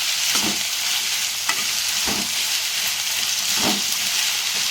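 Bitter gourd curry fries in a pan with a loud, steady sizzle, and spatula strokes scrape through it about every second and a half, close up.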